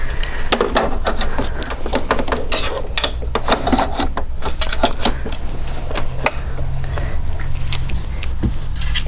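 A sewing machine stitches the background tack-down on a quilting project, a loud rapid stream of mechanical clicks and thuds in bursts over a low motor hum.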